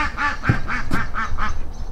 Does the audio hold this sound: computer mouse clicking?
no